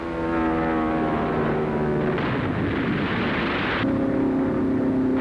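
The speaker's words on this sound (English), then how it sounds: "The sky is a patchwork of shell bursts, and an enemy plane is shot down." A World War II scene off Leyte Island in the Philippines as Japanese aircraft attack: a constant heavy roar of plane engines mixed with dense rumbling anti-aircraft shell bursts, loud and unbroken throughout.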